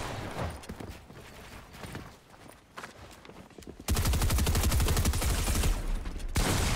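SMG gunfire in Fortnite starts as scattered shots and footsteps, then turns into a loud, rapid, continuous burst of automatic fire that stops briefly and resumes.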